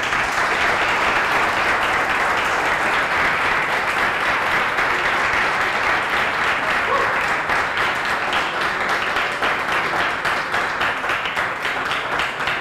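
Applause from the audience at a JSDay Canarias 2018 developer conference talk, steady and sustained, with dense clapping at an even level throughout and no voices over it.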